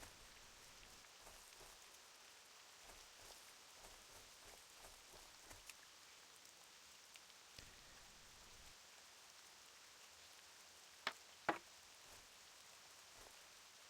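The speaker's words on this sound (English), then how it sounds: "I don't know how to turn off this rain." Steady rain patters in Classic World of Warcraft, a soft even hiss of falling drops with a few sharper clicks near the end, quiet and continuous.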